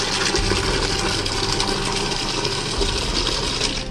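Water poured steadily to mix a soil treatment for a snail farm, giving a continuous, close, fairly loud splashing gush that runs unbroken with no talk.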